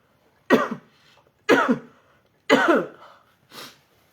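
Four sharp coughs, evenly spaced about a second apart, close and fairly loud, the last one softer.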